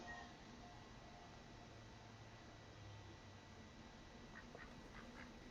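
Ducks quack a few times near the end inside the video game Little Inferno, faint short calls sitting over a constant hiss-heavy background with no speech.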